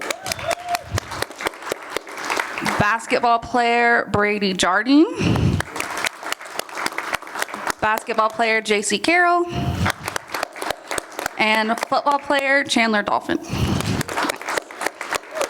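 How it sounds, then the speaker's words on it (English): An audience applauds for sports panelists—former soccer, basketball and football players—at a business event, a steady clapping wash running under a host's voice as names are read out, with brief bursts between introductions. "hold for applause"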